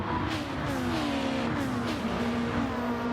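Fast race cars lapping the Tokyo Expressway South circuit in a racing video game, with a steady, loud engine drone rising in pitch as they accelerate and continuing without a break.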